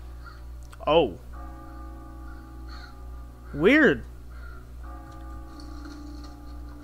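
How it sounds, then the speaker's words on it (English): Crows caw in Far Cry 5, with two distinct harsh calls a few seconds apart over a quiet ambient hum; a person speaks briefly between them. "So there's crows flying around"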